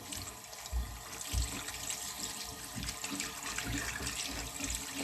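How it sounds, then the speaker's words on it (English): Steady running cold tap water splashing into a sink while washing chhena for rasgulla, continuous and close, with occasional heavier splashes and handling sounds. "Now we have to wash this mixture with cold water."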